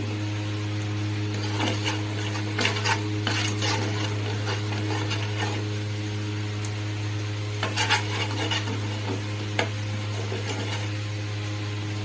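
A utensil rasps and scrapes against a pan, rubbing burnt sugar for colour. The strokes come in irregular bursts of gritty scraping over a steady low hum.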